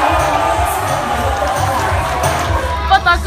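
Macedonian handball fans crowd a club in Bansko, cheering and chanting together in a loud, continuous roar with rhythmic low thumps and mixed voices throughout.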